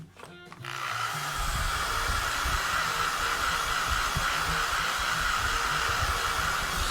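A handheld dryer starts after a brief clatter and runs as a steady close whirring hiss, drying a farmhouse Christmas craft, with a low thudding rumble underneath and no talking.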